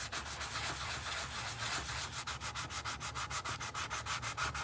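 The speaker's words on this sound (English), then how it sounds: "Sanding block." A sanding block rubbed by hand over a surface in a craft studio gives a steady scratchy rasp that settles into quick, regular back-and-forth strokes, close and fairly loud, with no talking.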